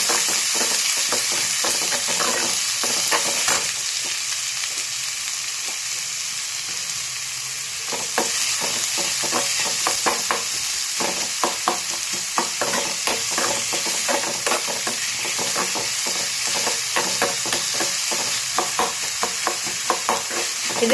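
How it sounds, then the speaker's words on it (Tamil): Onion, curry leaves and dried red chillies sizzle and fry in a hot pan while being stirred, a steady loud crackle with repeated scraping strokes of the spoon, no talking. "போட்டு இதையும் நம்ம நல்லா இதில் நல்லா மிக்ஸ் பண்ணி விடுங்க"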